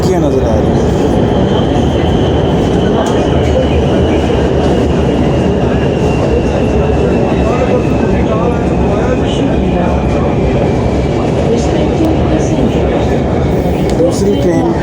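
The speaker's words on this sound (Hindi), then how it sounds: "दूसरी ट्रेन पास से गुजरी है।" Orange Line metro train in Lahore passing another train, a loud continuous rumble with rail roar and faint high squeal throughout, speech murmuring underneath.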